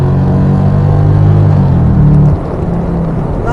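A 1995 BMW 840i with a V8 engine accelerates loudly from close range, its steady rising drone holding for about two seconds before easing into a lower, quieter run.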